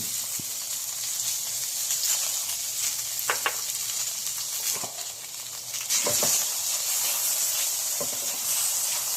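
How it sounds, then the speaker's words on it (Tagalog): Squid sizzles steadily in an oil-filled pan over medium flame, a continuous close hiss with occasional stirring clicks and taps, no talking. "Okay na siya, lagyan na natin yung squid."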